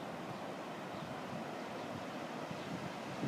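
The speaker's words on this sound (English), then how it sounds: "I'm on San Carlos Beach" Surf at San Carlos Beach in Panama makes a broad, steady wash mixed with wind buffeting the microphone, continuous and fairly faint, with no voices.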